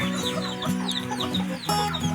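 Several Shamo chickens cluck and squawk close by in a backyard, overlapping calls in uneven bursts with no talking.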